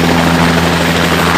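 A helicopter flies close and loud, its engine and rotor making a continuous dense roar with a steady low hum and no pauses.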